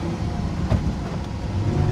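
Lamborghini Sian V12 hybrid supercar engine, a brief, steady low rumble with a slight rise in revs, heard close and fairly loud.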